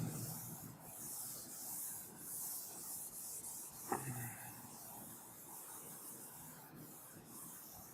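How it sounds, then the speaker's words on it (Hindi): Writing is wiped off a board during a maths lesson: a faint, steady swishing rub in repeated strokes, with one brief knock partway through. "ये सब नीचे हम मिटा देंगे अभी"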